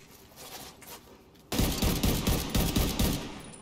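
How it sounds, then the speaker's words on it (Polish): Enemy automatic gunfire in The Division 2 on a solar farm mission, starting halfway through as a loud, dense burst of rapid shots after quieter distant firing. "O Jezus, coś nam jeszcze w dupę strzela"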